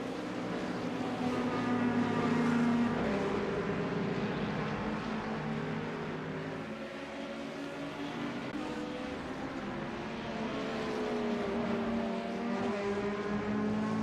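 Sim racing cars lapping Laguna Seca in a video game, a steady dense engine drone with shifting pitch from several cars running continuously at moderate level, without talk.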